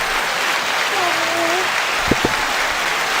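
A rap-media show audience applauds the co-host, a steady wash of clapping with a brief voice and a couple of sharp knocks partway through.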